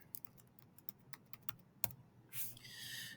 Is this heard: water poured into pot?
no